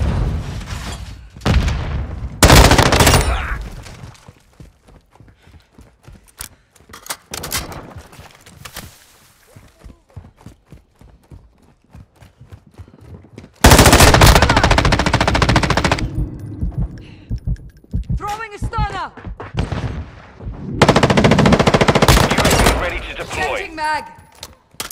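Automatic rifle fire from an M13 in a Call of Duty: Modern Warfare II team deathmatch, loud sustained bursts with rapid rhythmic shots, separated by quieter gaps and mixed with in-game voice callouts.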